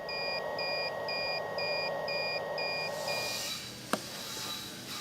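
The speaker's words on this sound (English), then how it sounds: "you will shortly get an audible alarm as the filter is so clogged that the airflow level cannot be maintained" A 3M Speedglas welding helmet respirator sounds its clogged-filter alarm, a regular train of short, high electronic beeps repeating evenly, then stopping, followed by a sharp click near the end.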